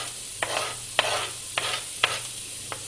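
Chopped onion sizzles in a pan with carrot and celery for a bolognese sauce, stirred in a series of regular scraping strokes about every half second over a continuous close frying hiss.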